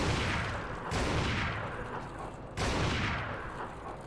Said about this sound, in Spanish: ¿Pero cuántos tiros le he dado?